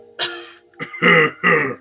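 A person forces out several hard, throaty coughs, like clearing the throat forcefully: one short burst, then two louder, longer rasping hacks in quick succession, close and clear with no talking.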